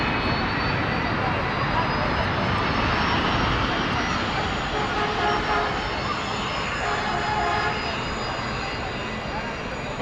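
Airbus A380 jet engines roar with thrust reversers deployed at an airport, a loud, sustained broadband rush with a thin high whine running steadily over it.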